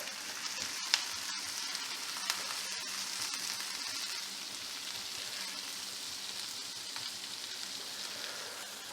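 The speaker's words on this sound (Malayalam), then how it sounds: "ഇതിലേക്ക് കുറച്ച് കറിവേപ്പില ഇട്ട് കൊടുക്കുന്നുണ്ട് ഒരു രണ്ട് പച്ചമുളക് ഇട്ട് കൊടുക്കുന്നുണ്ട് കീറിയിട്ട് ഒന്ന് ഇളക്കി കൊടുക്കുക" Clove beans stir-frying in a pan with curry leaves and slit green chillies give a steady, quiet sizzle throughout, with a few faint clicks of stirring and no talking.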